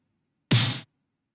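One dry electronic snare hit from a Kashmir sample pack, short and punchy with a bright noisy body and no reverb tail, alone amid silence.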